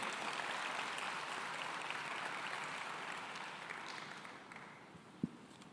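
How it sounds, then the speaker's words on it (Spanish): Faint, distant applause from a congregation during a Saturday church service, a steady wash of clapping that slowly fades, with a single sharp knock near the end. "Dale un fuerte aplauso a Cristo."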